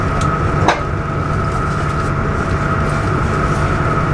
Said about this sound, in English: This train will take me there in approximately 37 minutes.